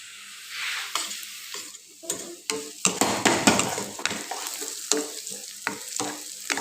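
Dried fish (shutki) fries in a little oil in a pan, giving a close sizzle broken by sharp stirring scrapes and clatters at an irregular rhythm, with no talking.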